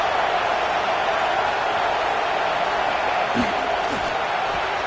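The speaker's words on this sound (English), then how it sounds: "This crowd bringing the energy and noise early." Broad, steady roar of a football stadium crowd at a game, loud and continuous throughout with no clear peaks, a dense wall of distant massed voices.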